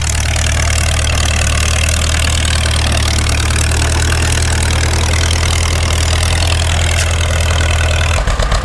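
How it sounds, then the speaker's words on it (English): Classic John Deere D2 tractor engine pulling a 12-foot John Deere disc through a field, a loud, steady low idle-like thrum that holds constant throughout, alone with no talk. "He's pulling a 12-foot John Deere disc."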